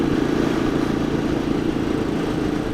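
A 2017 Royal Enfield 500 Classic cruises at low revs around 55 mph, with a steady, close engine thrum blended with wind and road rumble and no changes in pitch.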